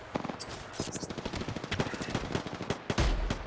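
Gunfire in Apex Legends, rapid bursts of automatic weapon shots crackling in quick succession, loud and close, with no talk over it.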